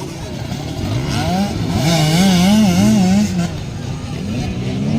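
Motorcycle engine revving hard during a race, a loud sustained whine that climbs and wobbles in pitch, with crowd noise and commentary underneath.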